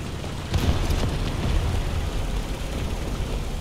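An explosion in the War Thunder tank game rolls out as a dense, sustained rumbling roar that holds steady throughout, loud and alone, with no voices.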